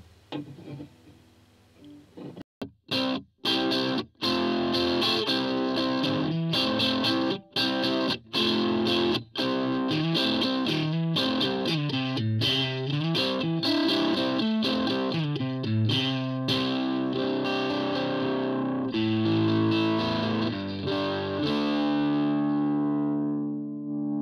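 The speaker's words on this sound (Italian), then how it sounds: "abbassare il master volume per ottenere dei suoni crunch ritmici che hanno fatto" An electric guitar plays crunchy rhythm parts through a Mesa Boogie TransAtlantic TA-15 amp set with moderate gain and lowered master volume: a few sharp muted chugs open, then distorted chords ring out steadily and end on a long sustained, fading chord.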